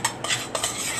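A utensil scrapes and clinks against a pan in a few quick strokes, close and fairly crisp, with no talking.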